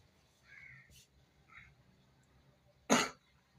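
A single sharp, loud cough close by, preceded by a few faint, scattered background sounds in an otherwise quiet indoor room.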